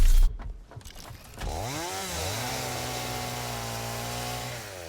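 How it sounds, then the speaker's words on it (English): A chainsaw in the Satisfactory video game revs up after a brief thud and then runs at a steady, loud, sustained whine for several seconds with no talk. "Chainsaw."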